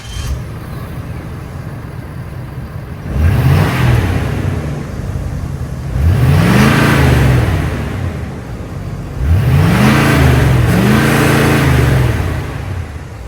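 A Ford F-350 Lariat's high output 6.7 liter 8-cylinder Powerstroke diesel idles, then revs three times in rising, falling surges with a deep, loud exhaust note, returning to idle between blips.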